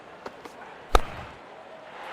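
A cricket bat strikes the ball in a cricket video game, one sharp crisp crack standing out after a couple of softer taps, with commentary-style background noise around it.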